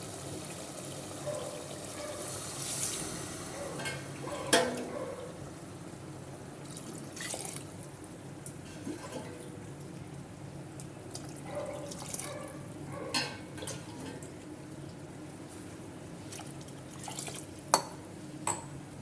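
Water poured into a pan of fried chicken while making seeraga samba chicken biryani, heard as faint splashing, drips and stirring clinks in a quiet kitchen, with no speech.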